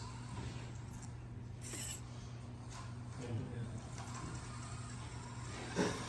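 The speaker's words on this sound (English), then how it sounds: "Winch." Winch on a 1/24 scale RC truck at an indoor pulling event, a thin steady mechanical whine with faint ratcheting clicks, low and fairly quiet, with scattered background noise and a louder knock near the end.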